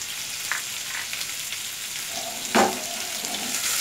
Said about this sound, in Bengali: আমগুলো একটু নেড়ে তেড়ে নিচ্ছে